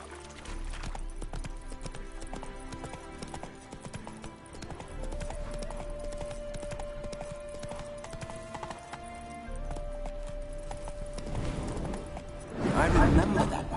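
Video game horse: rapid clip-clopping hooves run continuously over a music bed, ending with a loud, close horse neigh as the horse spooks at ghosts; a voice speaks faintly beneath.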